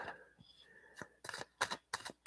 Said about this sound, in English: shuffling for Aries relationship